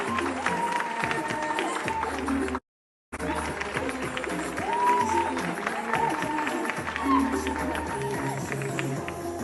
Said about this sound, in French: profitons une dernière fois du plaisir de voir cette déesse sur le podium sous vos applaudissements